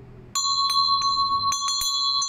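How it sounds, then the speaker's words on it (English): A solid engraved Tibetan brass bell with a lead clapper rings in a series of bright, sustained metallic strikes, about seven hits at uneven intervals, each tone lingering and overlapping, clear and close with no talk. "So this really lovely Tibetan bell, it's from brass."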